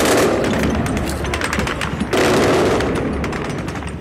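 Rapid, sustained bursts of gunfire aimed at an aircraft crackle and rattle continuously, with a sharp new burst partway through.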